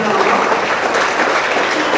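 Dense, steady crowd applause at a PDI-P party 52nd anniversary event, filling the whole moment, a broad wash of many hands clapping at once without letup.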